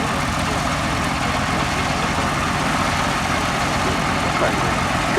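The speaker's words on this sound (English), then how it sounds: "Russian radial engine powering the G-BWWK a 9-cylinder Virginia M14 of 360 horsepower" A 9-cylinder Vedeneyev M14 radial engine of 360 horsepower on a Hawker Nimrod Mk.1 biplane at Duxford, a loud steady close-up rumbling drone throughout, with a voice talking under it.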